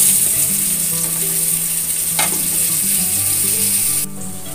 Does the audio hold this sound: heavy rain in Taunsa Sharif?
no